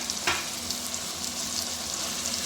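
Taro pieces stirred into a frying tomato masala, giving a continuous close sizzle with one sharp scrape of the spoon early on and no talk.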